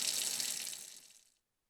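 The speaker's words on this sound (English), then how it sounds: "the sink will also have a flowing water sound." A kitchen sink faucet in a Unity factory environment runs with a steady hissing stream of flowing water, then cuts off abruptly near the end, leaving silence.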